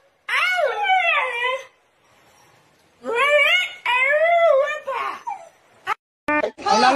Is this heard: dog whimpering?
yes